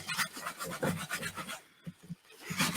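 A scrap of white napkin rubbed over paper in circular motions while building journal covers, giving a close, steady rhythmic rasping with a brief pause near the end before the rubbing resumes.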